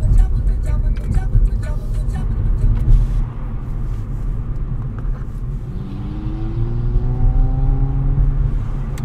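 A Renault 4L car accelerates nearby, its engine rumbling low and rising in pitch as it gathers speed, a steady moderately loud drone on the road.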